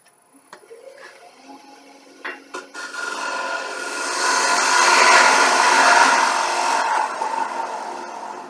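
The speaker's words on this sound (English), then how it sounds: "Now it's already thick, the bottom, but I go ahead with this gouge here." Gouge cutting the bottom of a wooden bowl on a lathe: a few light ticks and taps, then a sustained rising-and-falling rasping hiss as the tool bites into the spinning wood, close and loud.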